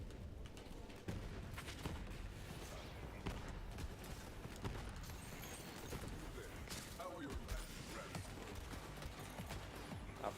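A dense, constant barrage of gunfire and blasts fills a Borderlands 3 firefight, with grenade explosions mixed in. Rapid popping and thuds crowd together throughout, while voices talk faintly underneath.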